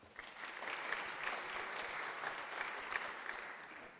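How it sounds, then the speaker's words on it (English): Steady audience applause at a data conference as a speaker is welcomed to the stage, a dense even patter of many hands clapping at moderate distance for about four seconds with no talk. "So let's give a round of applause."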